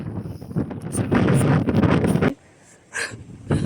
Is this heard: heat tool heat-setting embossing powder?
no